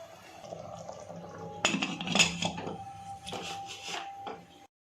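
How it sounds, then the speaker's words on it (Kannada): A pressure cooker being opened while cooking vada curry: metallic clinks and clatter of the lid, with a brief louder burst of handling noise midway, then quieter rattles before stopping. "ನೋಡಿ ಫ್ರೆಂಡ್ಸ್ ಕುಕ್ಕರ್ ಓಪನ್ ಮಾಡ್ತಾಯಿದ್ದೀನಿ"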